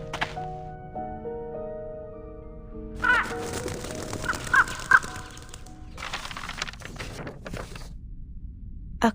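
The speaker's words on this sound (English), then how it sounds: "A crow?" A crow caws several times in the Reverse: 1999 video game, harsh calls set among sustained musical tones and a few dull thuds.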